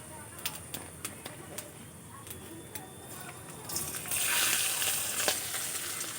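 Chopped garlic frying in a pan, a row of light taps and stirring clicks giving way to a rising hiss of sizzling oil that holds steady to the end.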